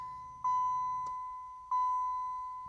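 A 2000 Camaro chimes as it is switched on, giving two sustained electronic beep tones, each slowly fading before the next, with a short click between them.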